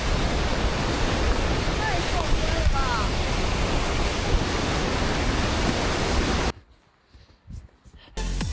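Giant waves pounding a seawall as a storm hits, heard as a loud, continuous crashing roar with heavy wind buffeting, then a sudden drop to near silence before the roar returns at the end.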